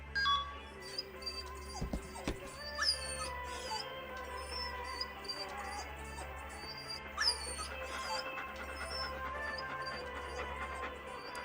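From the Silent Hill 2 video game dog ending, a dog whimpers and yips in scattered short squeaks among electronic beeps over a steady low soundtrack drone across several seconds, with no voices.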